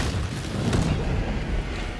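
A sticky bomb detonating on a boss in Hunt: Showdown gives a dense, roaring boom that fills the whole moment with loud, rumbling noise and no clear tail.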